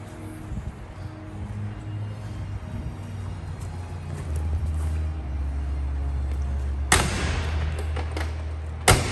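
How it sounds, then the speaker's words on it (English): Two sharp, loud door slams of a 1966 Chevrolet pickup truck near the end, the second one brief, following a steady low engine idle rumble. "so you gotta kind of slam the doors"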